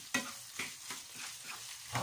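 Sliced hot dog is stirred in a pan for Filipino spaghetti, a low sizzle under a series of soft rhythmic scraping strokes, close and fairly quiet, with no talking.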